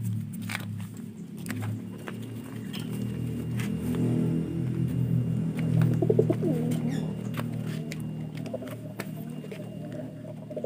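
Low, soft cooing from a gambir racing pigeon repeats steadily through a muffled background hum, with a slightly louder burst of calls midway.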